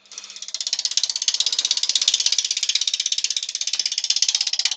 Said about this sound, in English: we'll just pick up a little bit of speed so we can get this rough. I'm just using a rough and gouge so we get a rough shape.